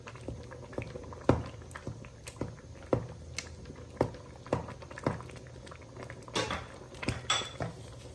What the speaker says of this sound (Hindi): आटे को साथ साथ मिक्स करना है कि इसकी गुठलियाँ ना बने।